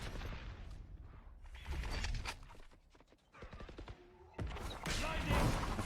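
Rifle gunfire in a Valorant esports match, bursts and shots crackling through a busy mix with a caster talking over the action throughout.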